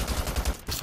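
Automatic rifle fire from the shooter game Brink, a rapid burst of shots at steady rhythm, close and fairly loud, with no talking over it.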